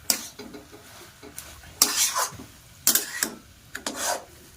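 Vegetable chop mixture stirred in a pan, bursts of rasping spatula scrapes in an irregular rhythm over a faint low sizzle, close and fairly loud.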